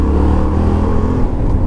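Yamaha Tenere 700 World Raid motorcycle engine running steadily at low speed during a slow maneuver, a continuous loud, close rumble with no talk over it.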